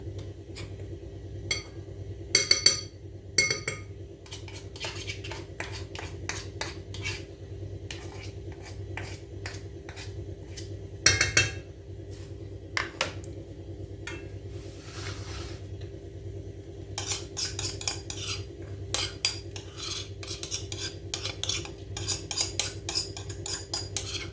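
A spoon stirs cauliflower fritter mixture in a bowl, giving scattered clinks and scraping taps against the bowl, with bursts of rapid clatter separated by quieter stretches.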